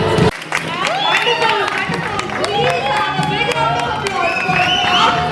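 A lively crowd at a charity fashion and awards show claps and cheers loudly, with shouts and excited voices mixed into steady applause throughout.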